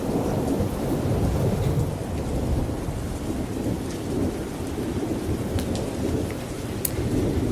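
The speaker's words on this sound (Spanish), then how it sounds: "concediéndole a Sofía su tormenta perfecta" Heavy rain pours steadily while deep thunder rumbles and rolls throughout, loud and close, with no voices.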